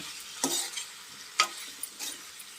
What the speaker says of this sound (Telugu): ముందే ఉడకబెట్టుకున్న పొట్టటో ముక్కలు బంగాళాదుంప ముక్కల్ని దీంట్లో బాగా రోస్ట్ చేయడం